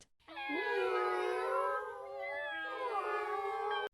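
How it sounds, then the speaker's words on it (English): A cat lets out two long, drawn-out meows, the first sliding upward and the second wavering, close and clear against a quiet background. "Cat."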